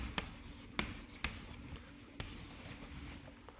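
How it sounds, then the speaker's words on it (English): Pen writing notes by hand on paper, a steady close scratching with a few sharper taps as strokes start, over a faint low room hum with no talking. "Now, let's write that down."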